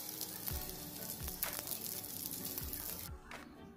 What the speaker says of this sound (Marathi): अशीच आपण वरून पण भाजून घ्यायची आहे छान थोडं तेल टाकून